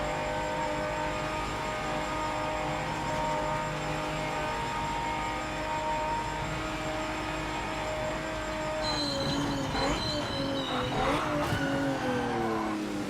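A race car in a driving video game drones with a steady tonal engine whine, then brakes hard late on as wavering, high tire squeals rise over the engine with no voices.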